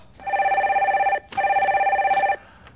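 A telephone rings during a radio call-in show, giving two long trilling rings separated by a brief pause, loud and alone with no voices.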